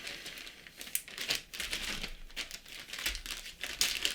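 Close plastic crinkling and rustling as a zip bag of scale model kit parts is handled, continuous with sharper crackles in bursts, no voices.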